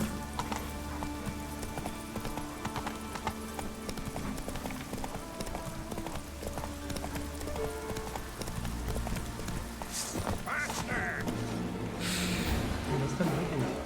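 A horse galloping in The Witcher 3, its hooves clip-clopping in a quick steady rhythm under a thick layer of game music and ambience, with a brief snort and a rise in activity toward the end.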